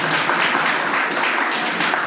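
A college audience gives a short round of applause, dense and steady clapping at even loudness with no talk over it.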